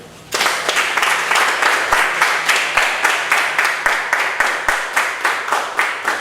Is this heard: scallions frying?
no